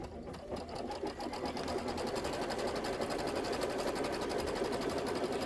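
A Baby Lock embroidery machine stitches a batting placement line in a steady, fast, continuous mechanical whir, loud and close.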